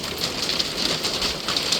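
Hail patters densely on a roof, a steady rattling clatter of many small hits with no voices.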